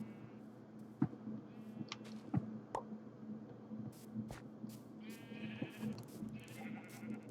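Minecraft sheep bleat in short scattered calls at moderate distance, several separate bleats over a low steady background hum with a few soft clicks.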